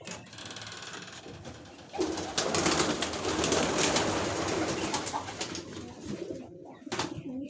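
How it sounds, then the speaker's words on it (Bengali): Pigeons kept in a small rooftop poultry coop coo in low, rolling bursts close by, with a brief flutter or two over the steady murmur. "এগুলো সব কবুতর।"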